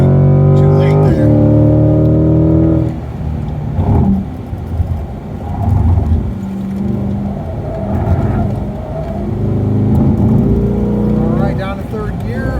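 A Chevrolet C8 Corvette brakes and downshifts to third gear on track, the engine note dropping and blipping loudly up close, with a driver talking over it.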